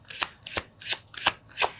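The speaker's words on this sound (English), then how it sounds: "So let's pull a card for" Tarot cards shuffled and cut in five quick rhythmic bursts, each a crisp close riffle with a soft thump, spaced about a third of a second apart, with no voices.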